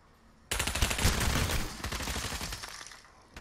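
Sudden rapid automatic gunfire erupts in a Pavlov VR deathmatch, a sustained burst of close shots that rattles on for a few seconds before thinning out.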